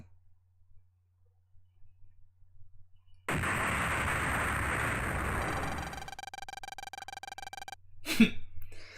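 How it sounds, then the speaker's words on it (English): An explosion in Mega Man Battle Network 2 on Nintendo Switch sounds as a sudden loud, noisy burst that holds for about three seconds, then gives way to a buzzing electronic tone and a final sharp crackle. "3 seconds until explosion."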